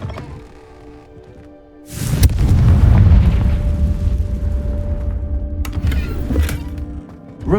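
A Confringo fire-blast spell in a magic-themed video game erupts in one loud, sudden boom that rolls into a long rumbling, crackling tail, with faint game ambience before it.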